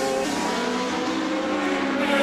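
A historic Formula 1 car races past on the Goodwood circuit, its engine giving a loud, steady, high-pitched scream held for the whole moment and heard close, with no voices over it.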